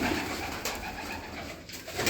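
Soft, low cooing of pigeons close by over a steady noisy background, with no one talking.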